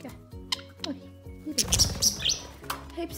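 Pet budgerigars let out of their cage chirp in short bright bursts, with a flurry of overlapping tweets in the second half, while a person talks softly nearby.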